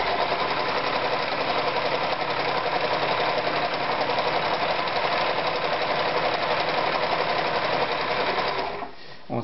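A Privileg Super Automatik 5021 sewing machine stitches continuously at a fast, even rate, a dense mechanical whirring and clatter close by, stopping abruptly near the end.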